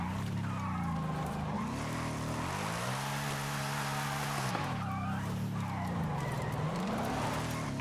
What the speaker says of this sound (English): Effortless drifting.